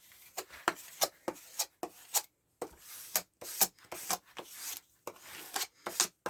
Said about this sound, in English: I'm going to burnish it down so it stays.